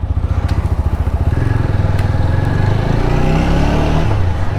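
A TVS Apache RTR 200 motorcycle idles loud and close with a rapid, throbbing exhaust pulse before the revs rise into a rougher, climbing engine note, no voices.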